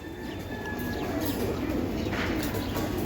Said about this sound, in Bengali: একদম পারফেক্ট একটা কবুতর